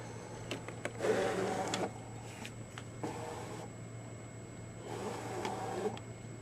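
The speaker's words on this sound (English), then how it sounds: "And now I will load it into the machine and press the Load Mat button." A die-cutting machine draws a taped cutting mat in, with a steady motor hum and several bursts of whirring and clicking feed sounds, fairly close, with no talk.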